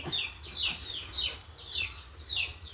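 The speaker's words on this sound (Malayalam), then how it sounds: "ഇത് വേറൊരു കോഴിയാണ് ഒരു മോഡൽ കോഴിയാണ്" A fancy chicken clucks in a short series of quick, close calls, about five bursts in under three seconds over a low background hum.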